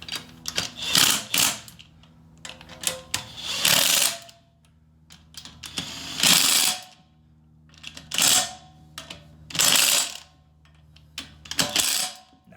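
A ratchet tightens wheel bearing bolts on a Jeep Commander or Cherokee, in repeated bursts of rapid, close metallic clicking separated by short pauses.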